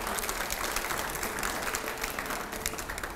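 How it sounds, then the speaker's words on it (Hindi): Loud, dense applause from a crowd in a televised Hindi debate studio, steady and sustained with no break. "अगला सवाल से पहले जोरदार तालियां हो"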